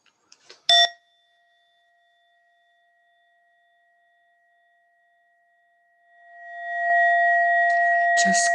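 A single meditation bell tone rings out clearly and sustains with a long, slowly fading hum, preceded by a brief soft clatter and ending with a second struck sound.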